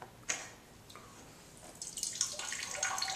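Water trickles and splashes from a hand-pumped portable water filter, starting as faint drips and building into a steadier spattering stream toward the end, close by with no talking.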